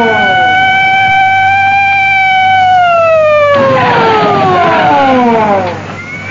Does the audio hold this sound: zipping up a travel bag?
no